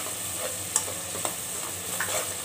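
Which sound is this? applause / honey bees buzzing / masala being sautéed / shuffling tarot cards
masala being sautéed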